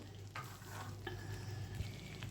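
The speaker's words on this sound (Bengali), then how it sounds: "ভালো করে ভালো করে মশলাটা কষিয়ে দিতে হবে" Spice masala with yogurt frying in a pan as it is stirred, a soft steady sizzle broken by spatula scrapes and light clinks, with a low background hum and no speech.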